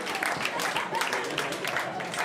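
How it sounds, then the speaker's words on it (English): Applause from a comedy club audience, a steady wash of many hands clapping at moderate distance, filling the short stretch without a break. "thank you for applauding"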